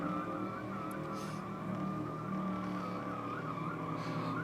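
At a diesel drag racing night at Sydney Dragway, race cars spin their tyres with a continuous, distant engine roar and tyre squeal holding steady over several seconds.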